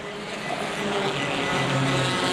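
Compact touring race cars accelerate together down the front straightaway at Winchester Speedway in a steady, distant roar that gradually builds in loudness, with no voices.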